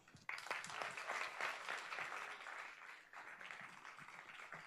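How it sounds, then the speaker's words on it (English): Tech-event audience applauding speakers onto the stage, a sudden burst of many hands clapping that holds steady and then thins slightly, heard from within the room. "please give them a round of applause"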